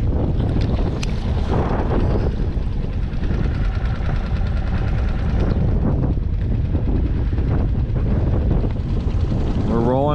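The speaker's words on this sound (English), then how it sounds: "Just keep going against this wind. It's pretty gnarly." Strong wind roars across the microphone aboard a small fishing skiff at sea off Gaviota State Beach near Santa Barbara, steady and loud throughout, with a faint engine hum and water wash beneath the buffeting gusts.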